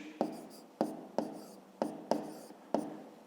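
A pen scratches on paper in six short, crisp strokes at uneven intervals, each a quick tap-and-drag, close and quiet with no talking.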